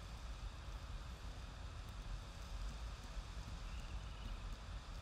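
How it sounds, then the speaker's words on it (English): Steady, soft rain hiss with a low rumble underneath, continuous and even throughout, no voices. "That's because it's raining."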